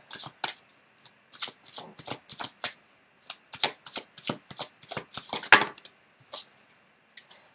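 Tarot cards being shuffled and drawn: a long run of crisp, close papery riffles and snaps in quick irregular bursts, one card action after another, with no voices.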